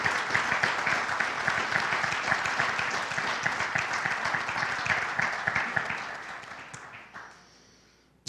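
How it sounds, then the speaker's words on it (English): Sustained crowd applause at an athletic hall of fame induction ceremony, dense clapping from many hands filling the room for several seconds before fading away quickly near the end. "Please give them a round of applause."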